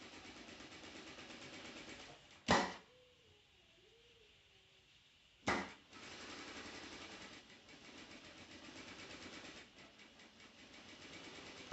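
A domestic sewing machine stitches fabric with a steady close mechanical whirr. The whirr breaks for a few seconds between two sharp clicks, then resumes.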